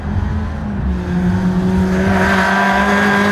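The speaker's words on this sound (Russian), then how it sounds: "Рев мотора может и тише, чем у гоночных болидов" A Lada sports car engine roars on a street as it accelerates, its rising drone climbing steadily in pitch and loudness over a few seconds, close and alone without talk.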